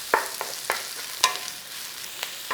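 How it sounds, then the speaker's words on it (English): Chopped onions sizzle in hot oil in a pan, a continuous hiss broken by sharp scraping clatters every half second or so as they are stirred, close and fairly loud. "Heat up your pan, chuck in your onions. In there, sizzle, whizzle."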